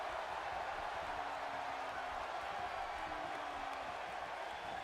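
A sustained crowd roar echoes through an indoor wrestling venue following a drop kick, an even, unbroken swell of cheers and scattered clapping heard from a distance.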